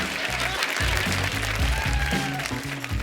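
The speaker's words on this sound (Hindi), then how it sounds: "हाथ तो आप लोगों के भी फ्री हैं, तो आप तालियां बजा सकते हो" Studio audience clapping at a stand-up comedy show, steady dense applause under a low musical backing with a voice faintly present throughout.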